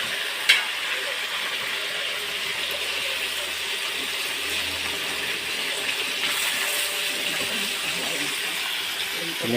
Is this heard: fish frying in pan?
yes